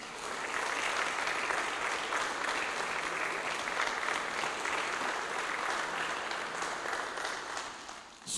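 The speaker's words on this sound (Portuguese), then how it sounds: "Uma salva de palmas para Jesus" A church congregation at a Sunday service applauds in a soft, even wash of clapping that holds steady throughout, heard from a distance.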